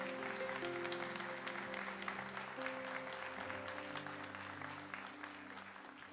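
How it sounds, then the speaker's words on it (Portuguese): A church congregation applauds at a Baptist service, with steady, moderately distant clapping over sustained organ or keyboard chords that run throughout. "Você pode dar um forte aplauso a Ele essa manhã?"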